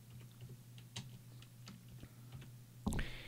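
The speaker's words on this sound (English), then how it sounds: "Street name, if I type something" Typing on a computer keyboard: a handful of faint, scattered key clicks at an irregular pace, ending with a slightly louder clack, with no talking.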